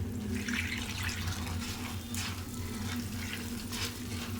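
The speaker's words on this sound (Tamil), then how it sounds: "நாங்கள் தண்ணி ஊற்றுறோம் பாருங்கள்" Water pours steadily into a container in a home kitchen, a continuous splashing rush that holds close and fairly loud for several seconds with no voices.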